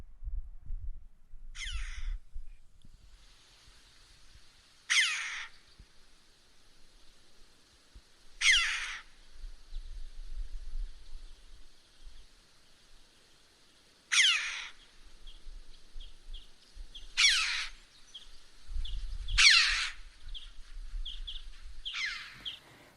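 Red-billed choughs call in the wild in the Corbières Fenouillèdes hills, sharp high ringing cries spaced several seconds apart, some distant and some near, over faint wind.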